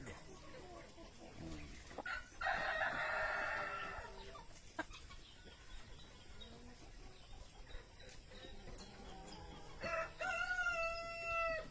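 A labuyo darag rooster, a native red junglefowl-type bird, crows once clearly at mid distance with a loud, harsh call, then again near the end amid faint farmyard background noise.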